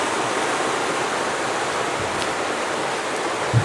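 River flowing beside a rocky canoe portage trail, a steady broad rushing wash of water that stays even throughout, close and fairly loud with no voices.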